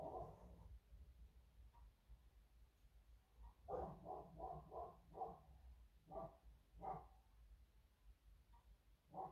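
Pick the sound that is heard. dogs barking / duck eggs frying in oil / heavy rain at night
dogs barking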